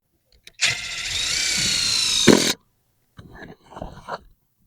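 A Ryobi power driver whirs loudly and steadily for about two seconds as it drives a screw, its pitch shifting slightly before it cuts off, followed by a few softer clicks and handling noises close by.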